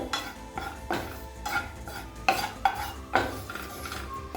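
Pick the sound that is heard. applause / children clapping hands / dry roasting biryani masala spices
dry roasting biryani masala spices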